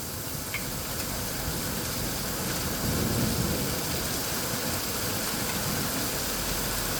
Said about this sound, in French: Il y a de la grêle de plus en plus forte.